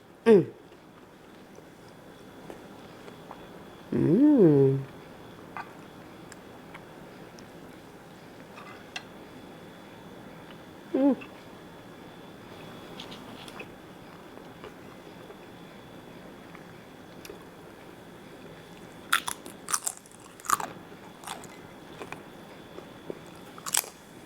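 Close crunchy bites and chewing of morisqueta, white rice topped with pork ribs braised in red chile sauce, come in a few short bursts separated by long quiet stretches.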